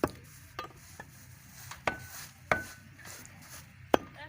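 Meat being cut up from a cow given in charity, with sharp irregular chopping knocks on a hard surface, about six blows spaced unevenly over a few seconds, close and moderately loud with no speech.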